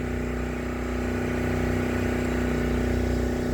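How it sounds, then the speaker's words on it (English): A generator runs loud and steady after a hurricane, its low engine drone and mechanical hum continuous and unchanging throughout, close by with no voices. "Sorry about the noise. We have a generator running."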